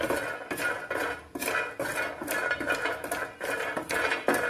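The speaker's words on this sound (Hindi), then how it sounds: "हम बादाम को रोस्ट करेंगे। पैन में बादाम डालेंगे।" Almonds roasted with a little salt in a pan over a medium flame, making steady, rhythmic rattling and scraping clatters as they are tossed and stirred, close and fairly loud.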